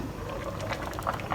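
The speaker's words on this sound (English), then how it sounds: "we can see some steam coming up from the clay pot. That means it's boiling already." Fortune Abalone Pot (pen cai) simmers in a clay pot, giving a close, steady bubbling with small pops and gurgles, no voices.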